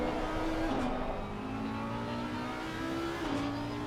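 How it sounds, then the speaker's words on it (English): Race car engines in a sim racing GT Challenge at Laguna Seca, a steady loud engine drone with rising and falling revs and a couple of gear shifts, no talking. "Enjoy the sounds of the engines."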